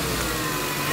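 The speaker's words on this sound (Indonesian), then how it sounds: "Terus mesinnya lebih rata nih sekarang" A car engine idles steadily after an alternator service, following earlier misfiring and stalling, with a smooth even hum heard briefly up close and no one talking.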